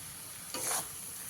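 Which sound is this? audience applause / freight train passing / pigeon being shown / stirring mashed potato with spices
stirring mashed potato with spices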